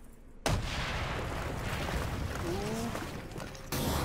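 Sustained gunfire aimed at a tank in the video game Call of Duty Black Ops 3, a dense, continuous roar of shooting that starts abruptly and runs loud for several seconds.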